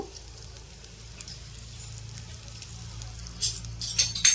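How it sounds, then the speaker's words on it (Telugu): A tempering of asafoetida and curry leaves sizzles in hot oil with a soft, steady crackle, then sharper pops and spatters build near the end. "దీనికి మంచిగా తాలింపు పెట్టుకున్నామండి అయితే వేయింది ఇంగువ కరేపాకు"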